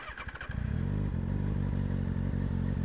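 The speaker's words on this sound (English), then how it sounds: "You guys already know what the exhaust sounds like." Motorcycle engine firing up with a few sputtering pulses, then settling into a loud, steady, throbbing exhaust idle close by with a brief blip of revs.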